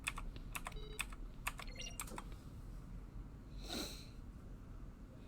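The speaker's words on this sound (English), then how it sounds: "Keyboard strokes and a nice tone." Rapid computer keyboard keystrokes in bursts from the video game The Stanley Parable, followed by a single soft, airy tone near the end, quiet and without speech.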